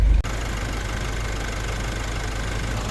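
A Nissan Navara 4x4 pickup's 2.5-liter turbo diesel engine idles close by, a loud, steady low clatter with an even rumbling rhythm and no voices.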